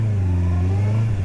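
A 2023 Honda CBR650R motorcycle engine at low speed during a braking test, with a close, steady, deep hum and a faint whir, briefly dipping near the end.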